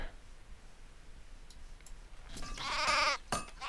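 Sheep bleat in the video game Craft The World, a bright wavering call rising over quiet ambient game sound and lasting about a second, followed by a short sharp click.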